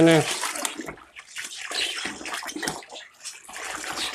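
Water being poured and stirred while two litres are prepared for birds, splashing and sloshing in uneven bursts close by, with someone talking over it.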